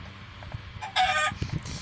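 Chicken clucking in The Walking Dead video game, a short loud burst of fowl calls standing out briefly over low background game ambience.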